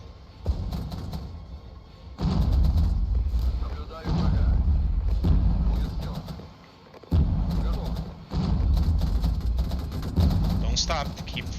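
Sustained gunfire and artillery in a military strategy video game, dense rumbling bursts of heavy fire in long stretches separated by brief pauses, loud and continuous, with a voice talking underneath.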